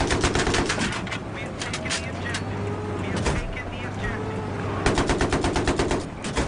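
Rapid automatic gunfire bursts from the video game Battlefield 3, close and loud, repeating in stuttering volleys with a vehicle-like rumble beneath, and a player talks excitedly over the shooting.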